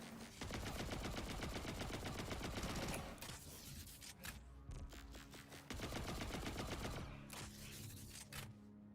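Gunfire from a slow-firing weapon in a video game, with dense rapid bursts of shots interrupted by brief pauses, loud and continuous under game sound with no talking.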